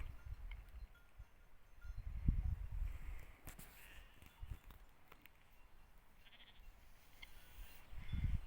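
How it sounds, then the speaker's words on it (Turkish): Grazing sheep bleat intermittently outdoors, a few low calls rising over a quiet rustling background, moderately distant with occasional soft footsteps. "koyunlarımız biraz aşağıda. Biraz da önümde otlamaya devam."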